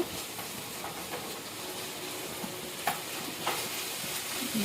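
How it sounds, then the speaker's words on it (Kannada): Ginger garlic paste frying in a hot pan, a continuous sizzle with stirring scrapes and a couple of sharper clinks of the spoon against the pan. "ಆಮೇಲೆ ಶುಂಠಿ ಬೆಳ್ಳುಳ್ಳಿ ಪೇಸ್ಟನ್ನು ಸಹ ಹಾಕ್ತಾ ಇದ್ದೇನೆ ನಾನು. ಅದನ್ನು ಸಹ ಸ್ವಲ್ಪ ಹಾಗೆ ಹುರ್ಕೊಳ್ತೇನೆ"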